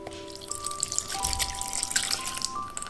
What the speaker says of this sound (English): We can add in our hot milk in.